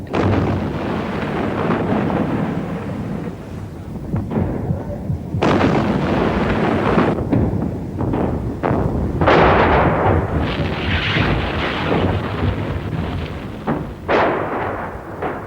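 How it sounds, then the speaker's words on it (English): Artillery bombardment during the 1982 Lebanon War: heavy booms and sharp blasts follow each other in irregular bursts over a constant rumbling roar, some near and loud, others more distant. "The bombardment was relentless and went on by day and by night"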